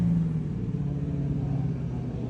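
A race car engine with a turbo spooling up at a mod nationals event, a steady deep rumbling drone that holds loud and close throughout with no talking.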